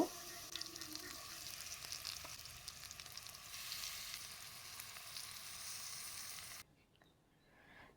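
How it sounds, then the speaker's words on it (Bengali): Mango pickle fries in hot oil in a wok with a continuous crackling sizzle and light stirring, heard up close for about six and a half seconds before it drops away. "তেলটা যখন খুব ভালোভাবে গরম হয়ে যাবে তখন এর ভেতরে আচারটা আমি দিয়ে নেব"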